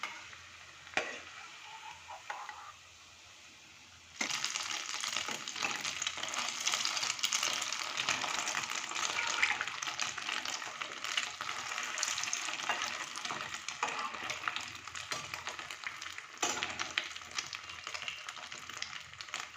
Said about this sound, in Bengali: এভাবে করে প্রত্যেকটা আমি ভেজে নিয়ে আসছি।